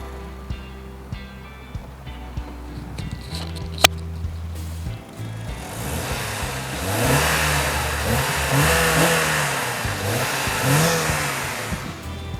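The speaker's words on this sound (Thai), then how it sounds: "ผมเล่นเครื่องให้ดู ร้อยหนึ่ง" A used 2013 Honda Accord 2.0 EL engine, bonnet open, idling steadily before being revved several times in rising and falling surges, close and fairly loud with no talking.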